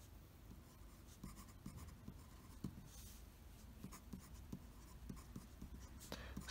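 A broad nib fountain pen filled as an eyedropper scratches across paper in short strokes and taps, close and quiet, with no talking.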